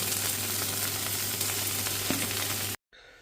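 A spice tempering sizzles loudly and continuously in a hot pan of oil while a sandwich is being made, a dense, crackling fry that cuts off abruptly near the end and leaves quiet room tone.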